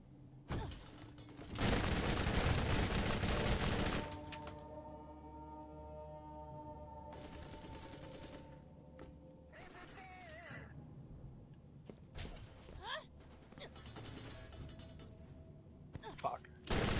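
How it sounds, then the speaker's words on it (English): Enemy gunfire in Borderlands, loud bursts of rapid shooting, one long volley followed by several shorter ones with quieter gaps, mixed with game sounds and some talking. "Oh my god, stop shooting at me."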